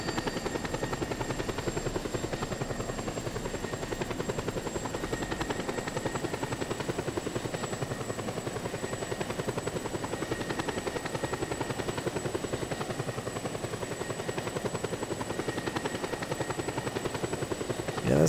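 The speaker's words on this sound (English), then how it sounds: "I'm taking my own chopper that can defend myself." Helicopter in the Just Cause video game, a steady whirring rotor drone with engine whine, loud and continuous throughout without a break.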